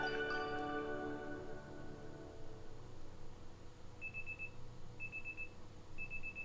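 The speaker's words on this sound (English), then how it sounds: "The alarm going off." Repeated electronic alarm clock beeps from Pokémon Legends Z-A sound in three short bursts about a second apart, following a fading musical passage over a steady background hum.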